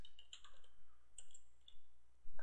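Sharp, faint clicks of a computer keyboard sound close in a quiet room, a few scattered taps ending with a firmer key press like hitting enter.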